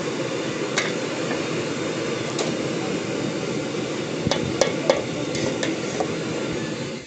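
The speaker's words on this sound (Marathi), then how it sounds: "आता आपण ही फोडणी याच्यात दालच्यामध्ये टाकली" Hot tempering with curry leaves poured into dal, giving a steady loud sizzle with a few sharp clicks and clinks of a spoon or vessel, no talking.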